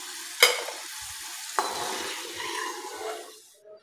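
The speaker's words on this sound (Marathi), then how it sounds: "आता आपण परत एकदा ते फ्रेंच फ्राईज तळून घेऊया।" Potato finger chips go back into hot oil for a second deep-fry; a sharp splash of bubbling erupts, a second batch drops in, and a loud sizzle then fades away.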